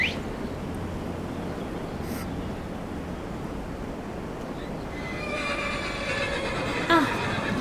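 Horse neighing in the video game Skyrim, a whinny rising late over a steady outdoor wash of wind or surf, with faint bird chirps; moderately loud and close.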